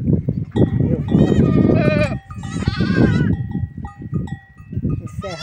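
Goats on a small rural farm bleat loudly and repeatedly at close range, several overlapping calls rising and wavering in quick succession, with faint farmyard background between the cries.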